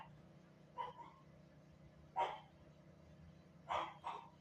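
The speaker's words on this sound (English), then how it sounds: "That's my dog." A dog barks in short bursts somewhere indoors, four separate sharp yaps spaced irregularly over low background hum, fairly faint and a little distant.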